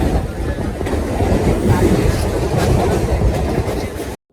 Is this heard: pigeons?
no